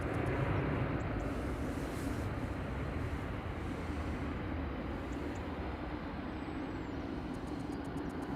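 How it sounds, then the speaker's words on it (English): A Virgin Atlantic Airbus A330neo touching down at Manchester Airport gives a continuous, even rumble and roar at moderate distance, steady without clear peaks, with no voices. "VS110 just touching down here"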